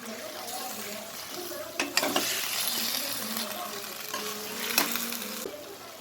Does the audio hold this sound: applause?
no